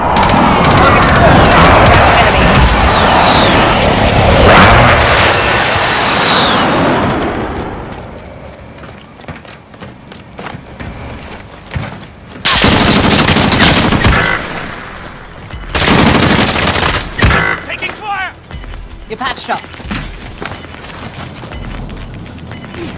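Precision airstrike in Call of Duty Warzone on PS5: dense, loud rumbling blasts and rapid gunfire for several seconds, then quieter stretches broken by two more sharp bursts of explosions, with game voice callouts mixed in.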